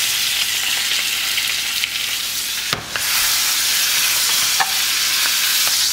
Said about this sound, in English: you wanna sear the steak